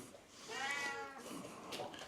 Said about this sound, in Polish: Koty już marudzą.